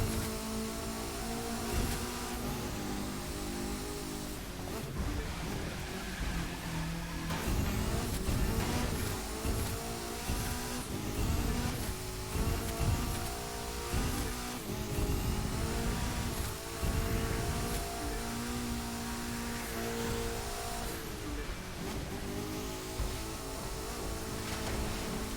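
A car engine in The Crew 2 racing video game revs up and down through repeated throttle bursts and gear changes in wet conditions, a loud, continuous synthetic engine drone with rising and falling pitch sweeps.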